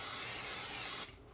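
Cooking spray hisses into a big mixing bowl in one steady burst lasting about a second, close and clear, before cutting off to near silence.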